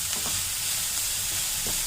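Food sautés in a pan with a dense, steady sizzle and crackle, close and continuous, with a few soft stirring scrapes.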